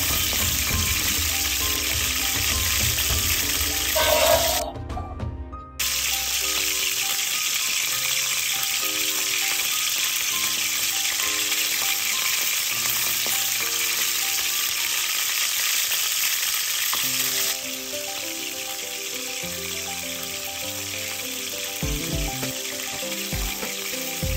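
Food frying in hot oil in a pan, a continuous loud sizzle held close throughout, briefly broken by a stir or splash and settling slightly quieter toward the end, with no voices.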